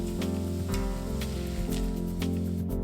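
Meat searing in a Demeyere stainless steel pan gives a dense, steady sizzle with crackling pops throughout, close and loud, with a low hum running underneath.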